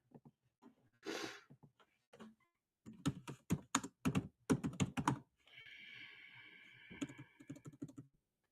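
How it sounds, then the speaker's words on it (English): Someone types on a computer keyboard in quick irregular bursts of clicks and clacks, close and fairly quiet, with short pauses and a brief soft rustle between flurries. "God, I suck at typing."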